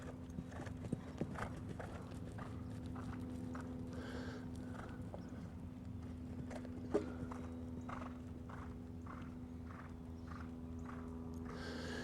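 A horse in training moves around an arena, hooves clip-clopping in a regular, soft rhythm under a steady low hum, with one sharper knock partway through.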